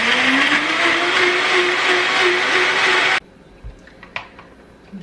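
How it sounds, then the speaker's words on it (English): Blender pureeing riced plantain into a creamy sauce, a loud steady motor whir with a slowly rising pitch that cuts off abruptly after about three seconds, followed by a few faint clinks and taps. "I'm gonna puree this until it's just totally combined."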